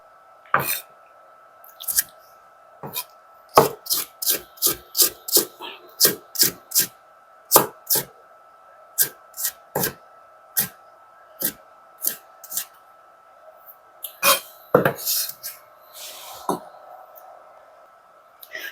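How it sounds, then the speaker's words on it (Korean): A kitchen knife minces green chili peppers on a cutting board, with crisp chopping taps in quick runs and pauses, close and clear, occasionally under a person's speech. "자, 풋고추 다져봅니다."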